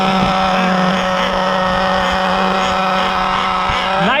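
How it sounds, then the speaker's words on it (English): A roughly 14-year-old HPI Nitro MT2 G.30 nitro RC truck engine idles with a steady, loud, high buzzing drone that holds evenly throughout, then lifts slightly in pitch at the very end. "Nitro MT starts too. It also idles good."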